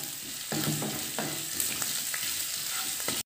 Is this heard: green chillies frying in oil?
yes